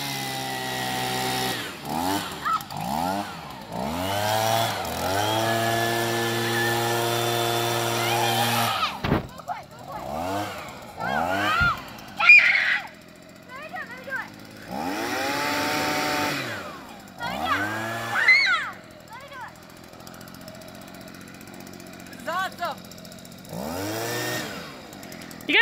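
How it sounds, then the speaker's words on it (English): Air blower forced into squirrel holes, its motor whining in long steady bursts that stop and start, with pitch sweeping up and down as it spins up and winds down, close by, with kids' voices talking between bursts. "They're taking the air blower and they were plugging up squirrel holes and trying to see if they can blow squirrels out."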